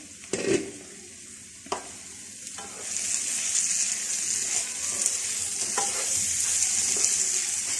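Cooked mash dal being stirred and mixed in a pot over low heat, with a few knocks of the spoon against the side, then a continuous close bubbling, hissing simmer underneath.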